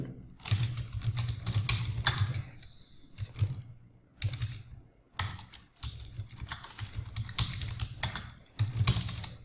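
Computer keyboard typing while an online exam application form is filled in, with the Jharkhand board name being entered; bursts of close, quick key clicks come in irregular runs with short pauses between them.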